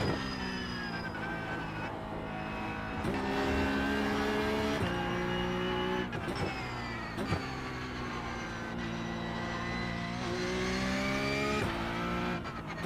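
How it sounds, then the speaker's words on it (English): A race car engine in a racing video game on the Nürburgring Nordschleife, loud and continuous, rising and falling in pitch with repeated gear shifts and hard revving throughout, with faint tire noise underneath. "driving the car with more engine sound and less tire sound"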